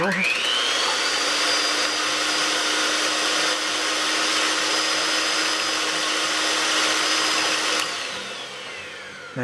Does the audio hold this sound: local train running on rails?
no